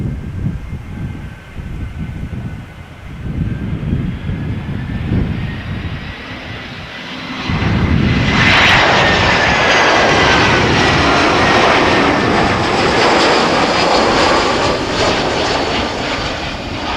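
A TAP Air Portugal airliner arriving from Lisbon at Amsterdam Schiphol. Its engine roar is moderate at first, then swells sharply around the midpoint into a loud, sustained rumble with whining tones as it passes close.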